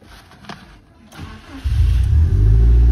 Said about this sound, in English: I'm going to fire it up for you. It's a completely cold engine.